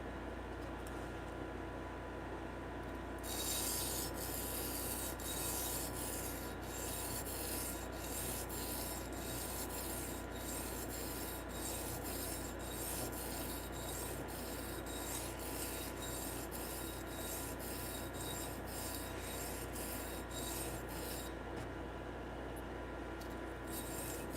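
A blade being freehand sharpened, steady rasping strokes of steel across a stone repeating in an even rhythm, close and continuous, with no talking.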